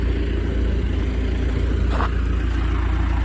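A forklift's engine runs steadily at close range on a cold morning at nine degrees, a continuous low rumble with no change in pace and no talk over it.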